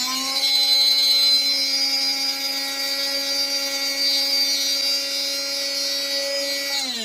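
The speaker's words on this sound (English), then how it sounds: "I will turn the crystal over and start drilling from the other side." A small power drill bores through a crystal for a necklace, giving a steady high-pitched whine with bright overtones that holds evenly for several seconds and then cuts off, close by with no talking.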